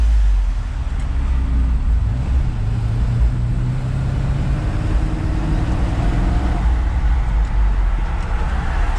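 Ford F350 truck with a 302 Cleveland engine driving, a steady low engine drone and road rumble heard from inside the cab, with a faint gear-change pitch shift and no talk.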